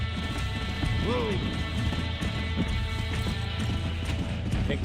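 A horse gallops in the video game Red Dead Redemption 2, with quick drumming hoofbeats throughout and a sharp whinny near the start, set against busy game ambience and brief voices.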